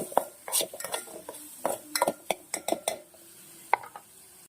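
Spicy dal for dal baati stirred in a pot with a metal spoon, giving a series of sharp clinks and scrapes against the vessel in irregular bursts, close and fairly loud, with no talking.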